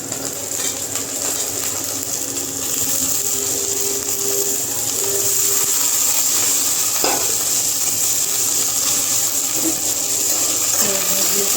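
Yard-long beans (borboti) tossed into a hot pan of oil, giving a steady, close sizzle and frying hiss throughout with occasional stirring clatter, no voices.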